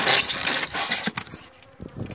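Honeybees buzz densely around small spring colonies on one or two frames during a sunny hive inspection. The close, loud swarm drone fades briefly and then swells back.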